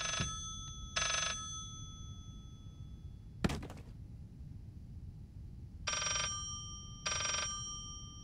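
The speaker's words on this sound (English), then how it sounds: "See, when I get in here, I can hear a phone." An old telephone bell rings in short bursts inside a creepy room in the Layers of Fear game, with one dull thunk midway and a low hum underneath, moderately quiet.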